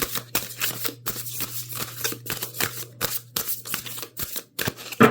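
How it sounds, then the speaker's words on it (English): Playing cards being shuffled repeatedly during a tarot-style reading, a close, crisp series of riffling bursts and soft slaps with short pauses between them, no talking. "Here, I'll shuffle one more time."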